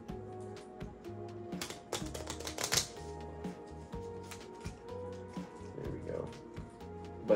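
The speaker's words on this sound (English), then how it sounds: "I need to shuffle this again." Cards from the Talisman board game are shuffled in a series of quick, crisp riffles and snaps. Repeated bursts sound close over a low musical backing.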